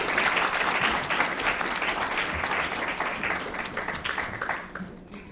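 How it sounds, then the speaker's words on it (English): A lecture audience welcomes speakers to a talk on slavery and British development with a round of applause, dense clapping that starts full and gradually thins and fades toward the end. "let's welcome them with a round of applause,"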